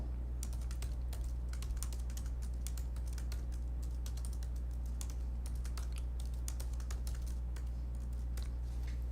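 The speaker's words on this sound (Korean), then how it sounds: "이렇게 직접 입력해보는 연습을 하면서" Rapid, steady keystrokes on a computer keyboard as commands are typed for deploying source code to a remote server, continuing close and clear without pause and with no talking.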